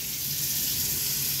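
Water running from a kitchen sink tap into a garbage disposal unit, a steady, close hiss of flowing water, continuous and even over the short span with no talking.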